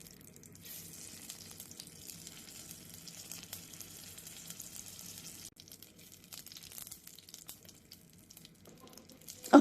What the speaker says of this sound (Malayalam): ശേഷം അതിലേക്ക് ഒരു തക്കാളി ഇട്ടിട്ട് ചെറുതായിട്ടൊന്ന് വഴറ്റി കൊടുക്കാം.